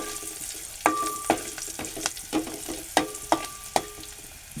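Garlic sautés with turmeric in an oiled pan, a constant close sizzle broken by sharp spoon scrapes and clinks against the metal every half second or so.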